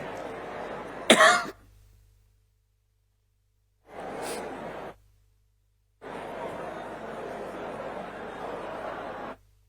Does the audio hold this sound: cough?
yes